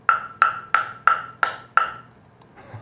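Six evenly spaced taps on a Loki Kirin K5 five-ply all-wood table tennis blade, each a sharp, close, bright ringing knock that decays quickly, heard alone, followed by a short quiet pause.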